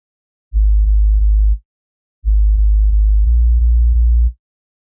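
A synthesized sub bass layer for a future bass drop plays in two loud, deep, smooth bursts, the second longer with a few note changes, separated by silence.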